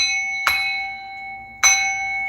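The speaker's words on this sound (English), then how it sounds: "They bang this bell." A bell struck twice, roughly a second apart, each strike a sharp bright clang with sustained ringing overtones that hum on between hits.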